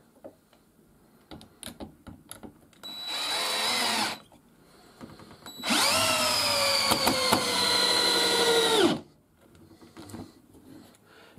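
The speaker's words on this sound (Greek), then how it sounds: "Ε, σταμάτησε μόνο του εδώ, πρόσωπο σχεδόν η βίδα, πριν κάνει ξεμπλοκάρισμα" A Parkside PKGA 20-Li C2 3-in-1 cordless tool drives a screw in two bursts, a short one then a longer, louder run that strains and stops itself with the screw nearly flush, with small clicks and handling noises around them.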